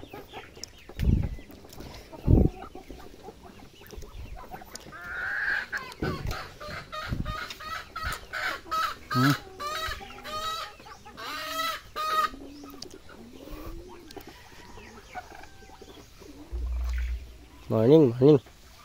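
Farmyard chickens clucking close by, short repeated clucks and bursts of squawking spread through the clip, with a person talking at times among them.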